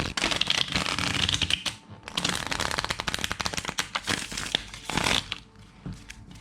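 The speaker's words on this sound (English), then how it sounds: "just doing one more riffle shuffle." A deck of playing cards riffle shuffled by hand, fast crisp fluttering bursts with brief pauses between them, close and loud.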